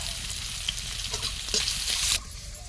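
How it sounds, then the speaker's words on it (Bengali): Green chilli, dried chilli, bay leaf and whole cumin sizzle loudly in hot oil, a steady crackling hiss with a brief stirring scrape near the end. "তেলের মধ্যে কাঁচা লঙ্কা শুকনো লঙ্কা তেজপাতা সব দিয়ে দিলাম একটু গোটা জিরে একটু নাড়াচাড়া করে নিয়ে"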